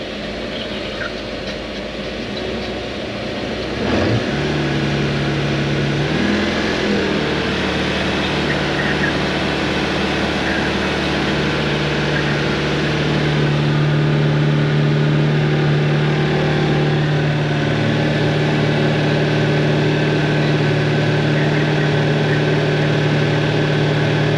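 A Toyota 1UZ V8 in a sterndrive boat, a cold-started engine that swells up from a low rumble and settles into a steady, loud, droning idle.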